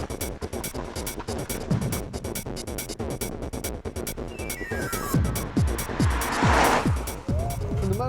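A V8-powered car is driven hard and fast, with a dense, loud engine roar, rapid gear-shift pitch sweeps and what may be tire noise, set against a busy racing-game-style mix and possible background voices.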